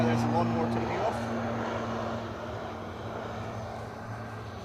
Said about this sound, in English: Those ATRs don't half belt some noise out when they're idling, don't they?